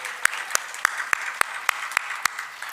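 Rhythmic hand claps ring out at a Hindu religious discourse, about nine sharp claps at an even beat over a soft bed of scattered audience clapping and faint voices.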